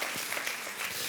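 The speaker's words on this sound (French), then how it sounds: "Ceux qui le croient, dites Amen, applaudissez, faites du bruit." A church congregation applauds, a dense, even wash of clapping that sounds slightly distant and lasts only a moment.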